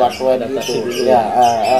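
A young long-tailed shrike (cendet) gives harsh, raspy squawking calls in quick bursts, loud and close throughout.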